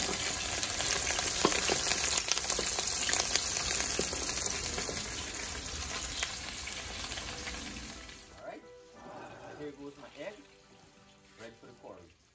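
An egg fries in a pot, cooked alongside snapper curry with fish egg, giving a steady close sizzle that fades after about eight seconds, leaving faint clatter and some voices underneath.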